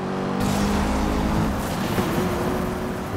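A car engine roars steadily in Need for Speed Rivals, loud and close as the newly acquired car accelerates, with a sustained motor drone throughout.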